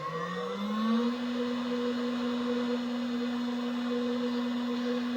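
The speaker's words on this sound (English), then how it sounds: "You've just got to pause for the spindle to get to speed, and the job's cutting." CNC machine spindle spinning up and cutting a job, a steady close whine that rises in pitch over the first second and then holds at speed with a constant machine hum.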